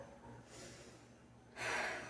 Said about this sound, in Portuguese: Vamos respirar?